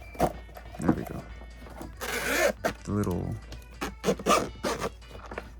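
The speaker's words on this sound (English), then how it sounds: "zipper was stuck inside." A zipper on a tomtoc Switch 2 carrying case drags open in a stuttering rasp after catching, close by, with a person talking briefly around it.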